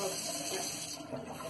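Water draining in a sink during a house walkthrough, a steady rushing, gurgling wash heard close and continuous.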